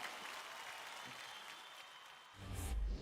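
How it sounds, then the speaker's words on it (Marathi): A television dance-competition audience applauds steadily, a dense wash of clapping heard at moderate distance and fairly low level, swelling slightly near the end with a low thump. "एकदा जोरदार टाळ्या पुन्हा एकदा मृण्मयीसाठी"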